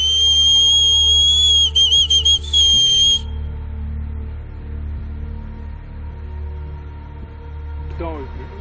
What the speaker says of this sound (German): versucht, ihn mit Pfeifen zurückzulocken